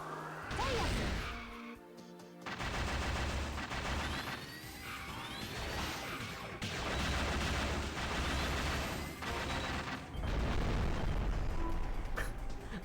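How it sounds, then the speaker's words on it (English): Crunchy bit-crushed explosions burst repeatedly through a video game boss fight against Big Wheel, loud, distorted booms and crashes layered over game music in several dense waves. "I love the bit crushed explosion sound"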